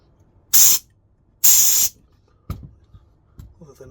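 Compressed air blasted through the float valve fuel inlet of a Hitachi carburetor from an XV1000, two sharp close hissing bursts about a second apart, followed by a few soft knocks and handling sounds.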